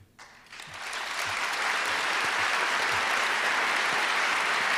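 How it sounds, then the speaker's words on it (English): An audience at a debate on Iraq and the War on Terror bursts into sustained, loud applause that swells quickly and holds steady, with a brief voice at the very start. "There's nothing ironic in my applause for Comrade Danner here"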